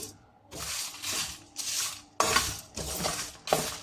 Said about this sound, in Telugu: దీన్ని కొంచెం దోరగా వేయించుకోండి. హై ఫ్లేమ్ మీదనే వేయించుకోండి.